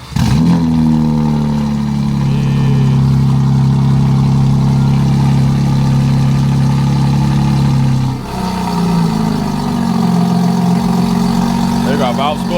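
A BMW G80 M3 Competition runs on its stock exhaust with the valves closed. The engine holds a loud, deep, steady idle close by, dips briefly, then settles back into the same rumble.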